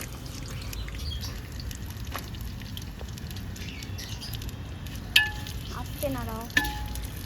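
Washed onions fry in a hot pan over a wood fire while handi chicken is cooked, giving a soft crackling sizzle with a few sharp clinks and a brief spoken phrase.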